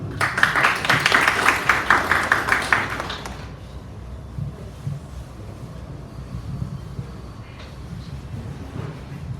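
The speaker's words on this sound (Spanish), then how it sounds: "Recibamos por favor a Miguel Coa con fuertes aplausos" An audience at a seminar on mineralogical characterization gives a burst of dense, close applause for about three seconds. It then stops abruptly, leaving a quiet room hum with faint shuffling.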